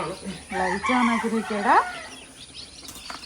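Native chickens call and squawk close by, a rising crow-like cry among clucks, then quieter scattered peeps from chicks and rustling.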